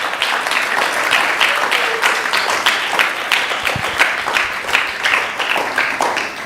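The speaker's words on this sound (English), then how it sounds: "So please give him a big round of applause" A crowd at a Sunday feast gathering of a Bhakti Yoga club breaks into steady, sustained applause, dense overlapping hand claps filling the room at close range for several seconds without any talk.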